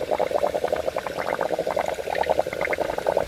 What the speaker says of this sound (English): let's check back on that fryer. Oh, that one's bubbling up nice.